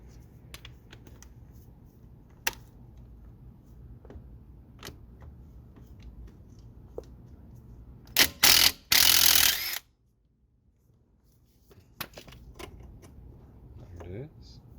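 A 14 mm socket and ratchet remove the bolt on a brake line holder of a Geo Storm during strut work, giving scattered clicks and then a loud burst of rapid ratcheting near the end, with a faint low background hum.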